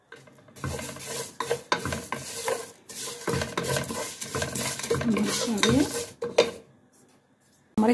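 Vermicelli stirred in oil in a pot, with bursts of scraping and clinking utensil strokes over a soft sizzle, broken by short pauses and no talk.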